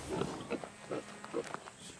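Piglet grunts and short squeals come in several quick bursts over about two seconds, fairly close and moderately loud against a low background hiss, with no talking.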